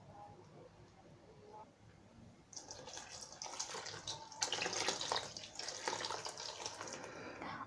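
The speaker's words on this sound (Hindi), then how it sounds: "अब हम इसमें नीम गर्म पानी शामिल कर देंगे।" Lukewarm water pours into a bowl of phulkis for dahi phulki, starting as soft trickling and then splashing louder and fuller, close up; a voice speaks quietly near the start.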